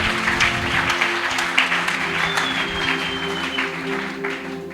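Church congregation applauding and acclaiming during a service, a continuous dense wash of clapping from a large crowd with some voices mixed in, steady throughout.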